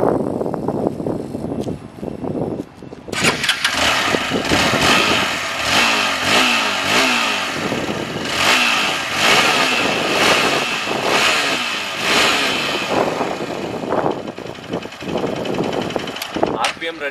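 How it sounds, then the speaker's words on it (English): A Hero XPulse 200 BS6 motorcycle with an oil cooler starts up, then revs repeatedly toward its redline, loud and close, with steady rising and falling engine roar throughout. "Let me just start the bike."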